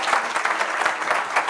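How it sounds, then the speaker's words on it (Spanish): An audience at a business forum gives a short burst of dense, even applause. It is close and steady for under two seconds, with no voices over it. "Un aplauso, por favor."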